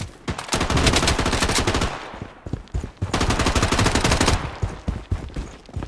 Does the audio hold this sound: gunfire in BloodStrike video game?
yes